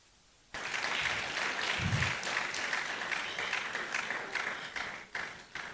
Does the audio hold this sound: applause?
yes